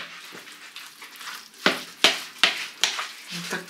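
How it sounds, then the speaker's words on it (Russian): A large spoon scrapes and stirs through beets and herring in a pot, several sharp scraping strokes over a soft sizzling background. "Где моя большая ложка? И все это надо перемешать."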